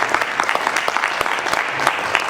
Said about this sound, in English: That is something to give an applause for us.